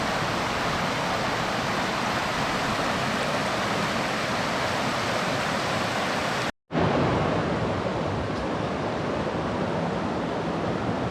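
Fremont River flowing fast beside the Hickman Bridge trail, a steady full-bodied rush of water close by with no voices, briefly cut out once partway through before resuming.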